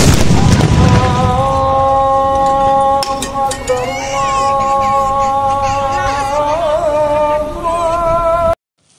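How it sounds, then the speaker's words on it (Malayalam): Ceremonial Ramadan cannon, a 1945-built gun fired by a police crew at a mosque as the call to prayer sounds, gives one loud booming blast at the start, followed by a sustained droning call and ambient crowd noise. "പള്ളിയിലെ ഹത്തീബ് ബാങ്ക് വിളിക്കുന്നതോടെ പീരങ്കിയിൽ നിന്നുള്ള ഉഗ്ര ശബ്ദവും നമുക്ക് കേൾക്കാം."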